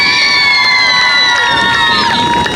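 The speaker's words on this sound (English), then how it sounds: "So let's get a round of applause for that." Crowd cheering and shouting at a high school senior game ceremony, loud and sustained with bright whistling and yelling tones throughout, no pause.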